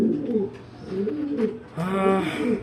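A male racing pigeon coos in repeated low, throaty rolling phrases, close by, with a brief brighter burst of noise near the end.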